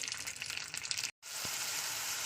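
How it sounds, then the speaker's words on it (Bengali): Whole cumin seeds frying in hot mustard oil in a home kitchen, a steady close sizzle that cuts out briefly, then resumes just as loud, with no talking. "তেলটা গরম হলে খুব অল্প পরিমাণ কাঁচা জিরে দিয়ে দেবো"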